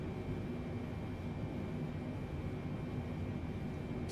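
Steady low engine drone of a Boeing 747 in Microsoft Flight Simulator, a constant even roar with a faint high whine, unbroken throughout with no talking.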